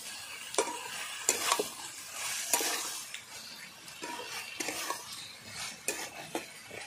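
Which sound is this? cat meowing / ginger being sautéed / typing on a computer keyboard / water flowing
ginger being sautéed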